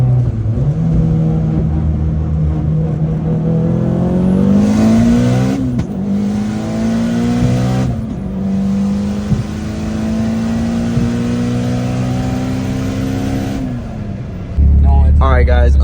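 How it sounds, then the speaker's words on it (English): Audi B5 S4 race car with a single turbo, its engine revving and climbing through gears in long rising pulls, loud and close, before cutting off near the end. "let me turn my fucking race car off"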